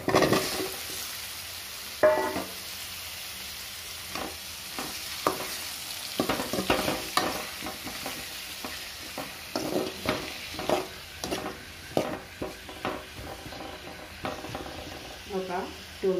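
Dosakaya curry frying in oil in a pan, a steady sizzle broken by repeated stirring scrapes and taps of a spoon, close and clear, with no talk.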